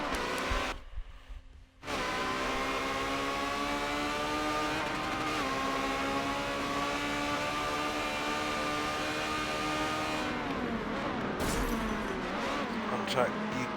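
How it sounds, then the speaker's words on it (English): Ferrari 360 Challenge Stradale racing engines drone at high revs at Hockenheim, pitch rising and falling as cars brake and accelerate, while a commentator talks over the roar. "Yami brakes a lot later than Kotze does for the corner."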